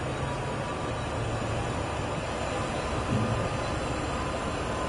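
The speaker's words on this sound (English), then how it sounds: "the train seemed to be going quite merrily" A freight train runs on Sherman Hill in Train Sim World 2, giving a steady, continuous rumble with broad mechanical noise that stays even and close for the whole stretch, with no one talking.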